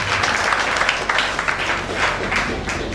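Congregation clapping at a church prophetic service, a full, continuous patter of many hands filling the room for a few seconds.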